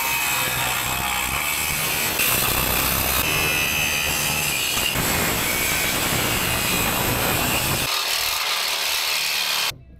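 A saw blade, growing dull, cuts steadily through a truck cab during a modification, giving a loud, continuous rasping grind that runs nearly ten seconds before stopping abruptly.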